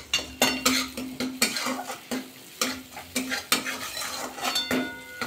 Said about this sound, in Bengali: ম্যাগির মশলাটা দিয়ে একটু নাড়াচাড়া করে নিলাম।